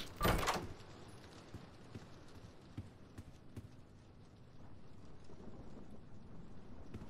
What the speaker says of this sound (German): Ich höre halt fast nichts wegen des Regens.